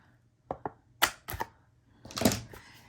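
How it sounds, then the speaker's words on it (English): A hole punch bites through paper while an album for a baby is cut and assembled, giving a few sharp, close clacks followed by a longer crunching punch, with no talking. "use our handy dandy hole punch, and put it precisely over top"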